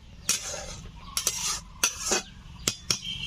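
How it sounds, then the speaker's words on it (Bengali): A spoon stirs boiled red lentil dal in a metal pot, with several sharp clinks against the side over a soft steady simmer, close and with no talking. "ডাল সেদ্ধ হয়ে গেছে, ভালো করে ঘুটে নেব।"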